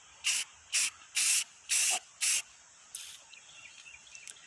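Short bursts of a spray can coating a rusty camper trailer tongue, five steady hissing sprays in a row followed by a softer, longer spray trailing off, close and clear with no talking.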